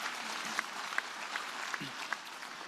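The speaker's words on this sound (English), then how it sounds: "And I think it's worthy of applause." Audience applause fills a United Nations climate summit opening session in New York in 2019: a steady, dense wash of clapping from a large crowd, with a few sharper claps standing out and faint voices underneath.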